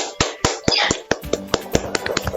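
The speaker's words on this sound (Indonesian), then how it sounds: "Beri aplaus dulu untuk semuanya" A class of students applauding, a burst of sharp, uneven hand claps close by that thins toward the end, with no talk over it.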